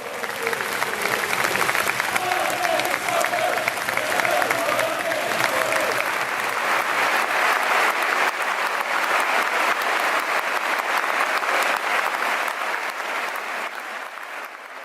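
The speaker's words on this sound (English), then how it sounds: "thousands stood to applaud Divvy as shouts of Mark Divvy Saunders rose into a cold winter air." Thousands of football fans in a stadium stand and applaud, a dense, steady wall of clapping carrying on for many seconds before easing slightly at the end.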